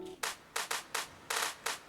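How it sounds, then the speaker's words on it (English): A reverb-washed, clap-like electronic snare from a Cakewalk Sonar song build-up strikes in a quick uneven pattern of about seven bright noisy hits, each with a short tail, loud and alone. "Then there is this another snare roll."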